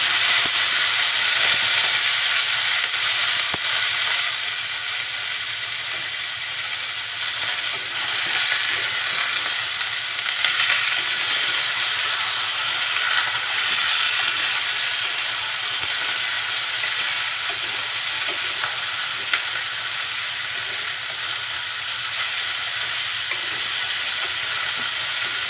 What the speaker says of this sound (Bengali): সবজিগুলো দিয়ে দিচ্ছি।